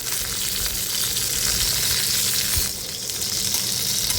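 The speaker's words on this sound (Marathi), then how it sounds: "आपण वांगी परतून घेणार आहोत तर मस्त अशी वांगी आपण डाग पडेपर्यंत चांगली परतून घ्यायची आहे" Eggplant pieces fry in hot oil for masala vangi, producing a loud, steady, close-up sizzle that crackles continuously throughout.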